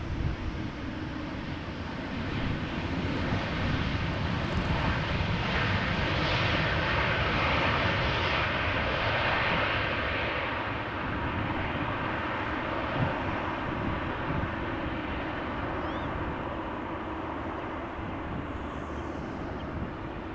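Jet airliners roar steadily as they arrive on a runway at Amsterdam Schiphol Airport, a continuous loud rumble of aircraft engines that swells and holds for the whole stretch.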